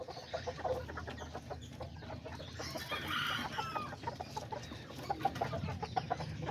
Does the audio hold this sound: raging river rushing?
no